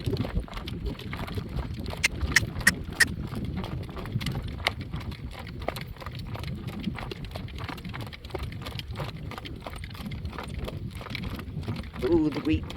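A well-broke driving horse trotting along a road past dry-land wheat fields, its hooves clip-clopping in a steady rhythm throughout, close and clear, with wind buffeting the microphone.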